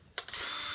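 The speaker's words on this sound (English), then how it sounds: "So what you do is go ahead and screw this down like you normally would." A power drill drives a screw down into metal screw-down roofing near a chimney: a brief double start, then a steady loud whir that continues to the end.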